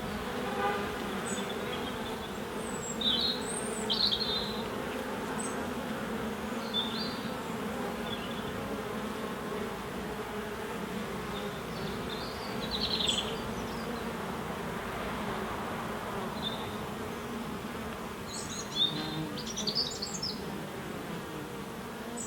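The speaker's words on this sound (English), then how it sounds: "They're quite friendly bees." Honey bees buzzing around an open beehive, a steady dense hum with scattered higher buzzes passing close, and occasional faint bird chirps in the background.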